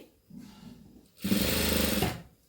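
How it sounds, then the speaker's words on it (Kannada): A sewing machine stitching cloth runs in two bursts: a quieter short run, then a louder steady whirring stretch of rapid needle strokes close by, alone without talk. "ಈ ಥರ ನೀಟಾಗಿ ಬಟ್ಟೆ ಈ ಥರ ಇಟ್ಕೊಂಡು ಹೊಲಿಗೆ ಹಾಕಿ"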